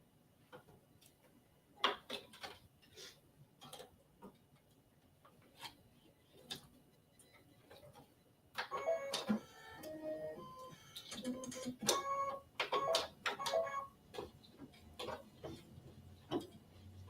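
An embroidery machine stitches a flower design onto cardstock, giving a steady run of quiet mechanical ticks and taps, busier and louder in the second half, with no talk over it.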